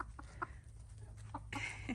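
Chickens and roosters clucking as they are let out of their coop in the morning, a few soft, scattered clucks at moderate distance against a quiet outdoor background.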